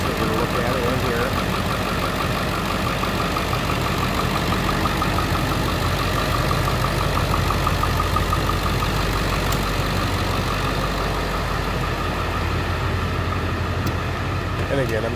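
A 2001 Ford F-250 Super Duty pickup truck engine idles indoors, steady with a low, even rumble and faint knocking, loud and close, running without a break.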